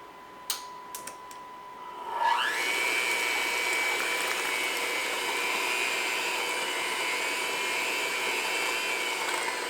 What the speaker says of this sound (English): Now we're going to take an electric mixer